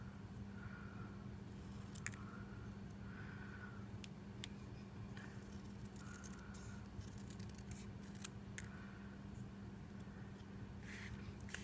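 Scissors trim a paper sentiment in a quiet room, giving soft, scattered snips and small rustles at irregular intervals over a low background hum.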